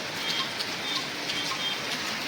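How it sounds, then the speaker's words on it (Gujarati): Steady rain keeps falling outdoors near a house where cattle stand sheltering, a soft continuous patter with faint bird calls over the top, no one speaking. "અને વરસાદ ચાલુ છે અહીંયા ફૂલ."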